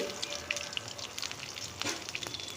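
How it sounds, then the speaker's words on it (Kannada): Crushed garlic frying in hot oil with mustard and cumin seeds for a greens sambar, a steady crackling sizzle with scattered sharp pops, close and fairly quiet, with no talk. "ಈಗ ಬೆಳ್ಳುಳ್ಳಿ ಹಾಕ್ಕೋತಿದ್ದೀನಿ"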